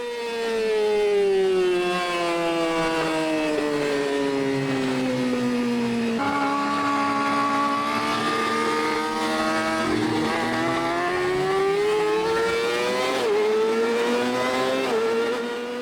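Motorcycle on the racetrack at Toronto Motorsports Park in Cayuga, its engine droning loud and close with a continuous rising and falling pitch through gear shifts and corners, no voices.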